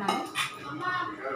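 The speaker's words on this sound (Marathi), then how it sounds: "बटाटे शिजवून मी त्याला स्मॅश केलं. तर मी सर्व मिक्स करणार आहे." Spoon scraping and clinking in a bowl while mashed boiled potatoes are mixed with chopped onion, coriander and chilli flakes, a few close metallic taps and soft scrapes over a short stretch.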